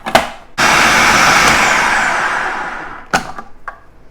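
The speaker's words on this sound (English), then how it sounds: "I love this little food processor" A small, inexpensive food processor blends a chickpea salad in one sustained whirring burst of about two and a half seconds. Short clatters come before and after it.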